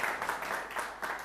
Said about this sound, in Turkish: büyük bir alkış istiyoruz bu dostlara